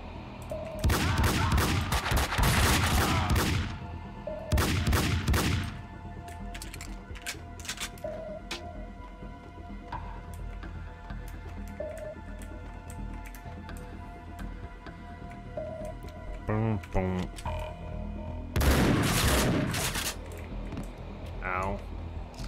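Gunfire in Max Payne 2, loud bursts of rapid shots in several separate volleys, with quieter stretches of game sound and voices between them.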